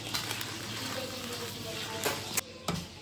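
Vietnamese spring rolls (chả giò) frying in oil, heard as a steady close sizzle and crackle with a few louder pops and stirring clatters.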